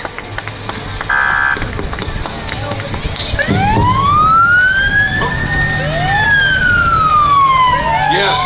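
Santa Barbara County Sheriff vehicles sounding their sirens at a holiday parade in Carpinteria, with a rising and falling electronic wail and a brief buzzer-like blast over outdoor crowd noise, fairly close and loud.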